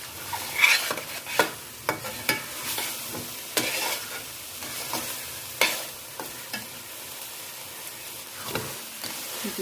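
Grated pumpkin halwa fried in ghee while a spoon scrapes and stirs it continuously, soft sizzling under repeated scraping strokes close up, with no voices.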